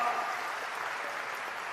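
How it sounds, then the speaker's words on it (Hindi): Applause from an audience at a political speech in Surat, a steady broadband patter of many hands clapping, moderately loud and fairly uniform throughout, with no clear voices over it. "ये इंटरवल पहले की ताली है थोड़ी कम बजी"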